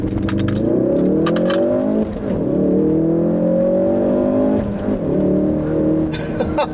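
2016 Ford Focus RS with its factory exhaust revs hard through repeated rising pulls, loud and close, with brief dips between gears where the exhaust crackles and pops.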